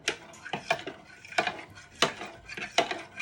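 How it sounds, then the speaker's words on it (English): A utensil scrapes and clinks against a pan while custard is stirred, about eight short scraping strokes in a steady, even rhythm, close and fairly clear, with no talking. "So you're just giving this a good stir so you get everything bound in"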